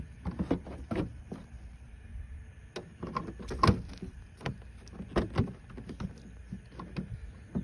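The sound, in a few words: 2015 Ram headlight assembly sliding into place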